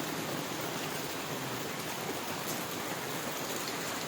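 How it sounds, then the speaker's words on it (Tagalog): Rain falls in a dense, even hiss with no breaks or changes, a steady wash of drops heard close with nothing else above it. "Ang ulan gikan sa kalangitan."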